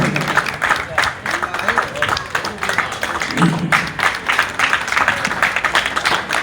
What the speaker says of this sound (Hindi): जोरदार तालियों से ताली बंद नहीं होनी चाहिए